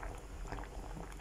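Fresh vegetables boiling in a cooking pot, a faint steady bubbling and simmering hiss with soft liquid pops, close and alone.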